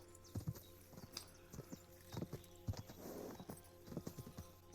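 Horses in a video game clop their hooves in an uneven, overlapping rhythm at close range, with a brief whinny breaking through midway and faint background game ambience.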